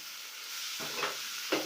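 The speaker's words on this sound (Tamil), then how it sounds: "எல்லா ஈரலும் சேர்த்தியாச்சுங்க நான் வந்து ஒன்றா மிக்ஸ் பண்ணி விட்டுறேன்" Pieces of liver are stirred and fried in a pan, giving a faint background sizzle and two brief scraping stirs partway through, with no voices.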